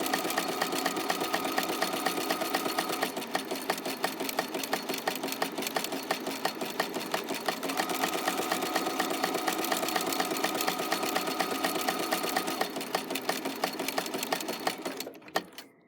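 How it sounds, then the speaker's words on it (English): A sewing machine back stitching through a coiled rope basket runs steadily and loudly up close with a fast, even mechanical chatter for about fifteen seconds, then stops abruptly, with no talking. "I'm just going to repeat by back stitching to the edge."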